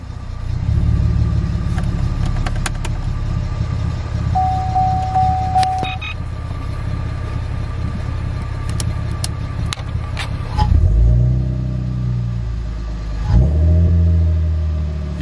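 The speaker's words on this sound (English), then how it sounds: "so it's still revving high" A Camaro engine runs at a high idle after startup, droning steadily with a couple of brief revs near the end.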